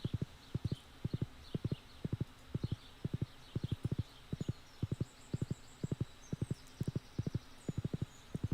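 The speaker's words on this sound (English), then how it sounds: "the tractor is making clip-clop noises" Steady rhythmic clip-clop of hooves in quick pairs from a modded tractor in Stardew Valley, loud and close, with faint chirping birds in the background.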